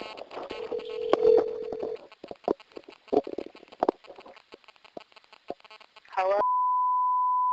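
A second phone call attempt: a steady telephone tone and short beeps sound over a line with bits of distant voice, ending in a long, clean held tone.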